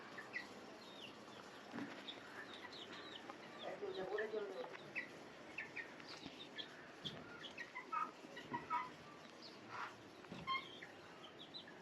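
Chickens of several breeds, including a Pakistani naked-neck hen, cluck and squawk in short, scattered calls at moderate distance, faint under a steady background hiss with someone talking at times.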